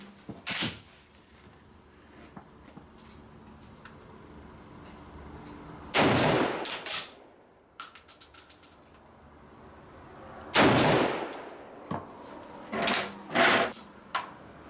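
Loud, sharp shots from a Swiss K31 bolt-action rifle being zeroed ring out several times at irregular intervals, with quieter mechanical clicks and handling noises between them.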